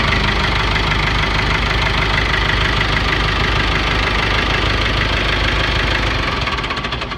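Engine running at a steady, loud idle with a rough knocking chug, continuous and close, with no voices, easing slightly at the very end.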